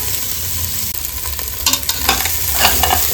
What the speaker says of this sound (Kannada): ಕಾಲು ಹಾಕೊಂಡು ಫ್ರೈ ಮಾಡ್ಕೊಳ್ಳೋಣ.